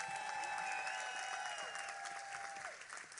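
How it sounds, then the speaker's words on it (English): Crowd applause at a Philadelphia mayoral election victory speech honoring a campaign team member, steady and loud, with cheering whistles and shouts rising over the clapping before it thins toward the end. "Give him a round of applause."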